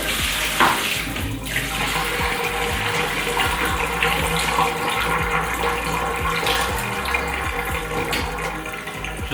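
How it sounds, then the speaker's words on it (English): Noodle cooking water being poured out of a pot while making pho, a steady continuous splashing flow of liquid running for several seconds at close range, with no talking. "We have our water of noodles, and we're going to just pour it out"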